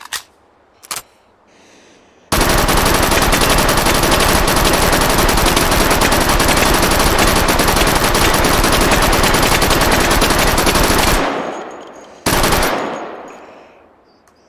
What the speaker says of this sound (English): Grease gun. MP40 classic.